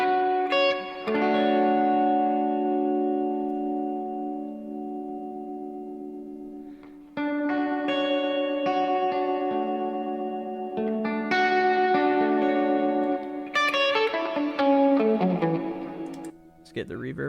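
An electric guitar plays chords and picked notes through a Chase Bliss Lost and Found pedal's spectral modulator effect with raised resonance, giving a shimmering, warbling, sustained tone in several phrases; loud and continuous, with brief talk over it.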